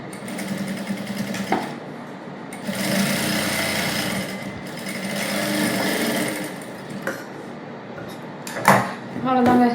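Sewing machine stitching a princess cut blouse, running in steady continuous bursts with brief pauses between passes, close and fairly loud, with light background noise.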